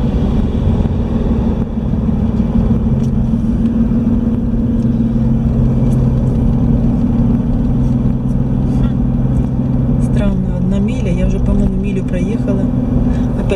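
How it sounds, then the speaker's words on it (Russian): A huge truck rolls past on a Florida road near Sanford airport and Lake Jessup, heard from inside a car as a steady, loud engine and road rumble with wind noise and a rising whine toward the end. "Пусть он уже проедет, такой громадный трак."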